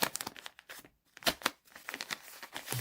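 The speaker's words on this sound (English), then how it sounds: "open the plastic bag" A plastic bag holding a camera microphone kit is opened with quick crinkling and tearing rustles in short close bursts.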